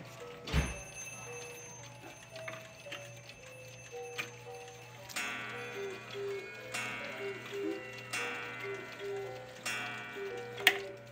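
Owl clock ticking at a clock shop during a chiming event, a steady mechanical tick with bright metallic chime tones ringing out, while people talk in the background.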